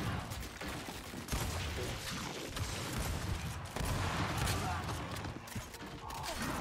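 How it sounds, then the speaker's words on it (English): Gunfire from the video game Gears 5 during a ranked Control match, dense, rattling bursts and mechanical clatter running throughout, loud and close, with chaotic game effects layered underneath. "Let me shoot my gun."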